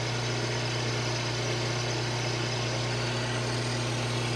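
Wood lathe spinning a long workpiece at 1100 RPM: a steady, even motor hum with a constant low drone runs unbroken and close throughout, with no voices.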